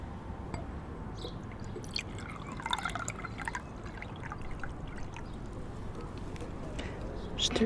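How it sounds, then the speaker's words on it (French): Water poured and then sipped in a quiet morning setting, with soft trickling and dripping followed by gentle swallowing sounds, close and intimate throughout. "on va commencer par boire de l'eau ensemble"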